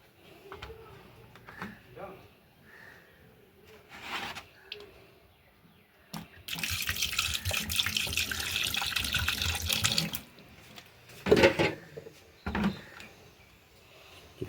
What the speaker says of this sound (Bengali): তো সুন্দর করে এখন ধুয়ে নিতে হবে মটনটা।